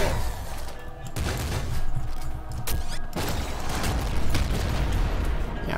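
Rapid, dense video-game gunfire from a Gatling Slugger in Nuclear Throne, a continuous loud barrage of blasts with brief bursts and booms layered throughout.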